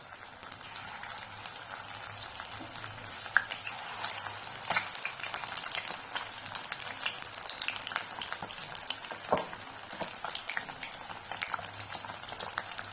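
Marinated chicken lollipops frying in hot oil: a continuous, even sizzle with small crackles and pops, fairly quiet and steady throughout, with no talking.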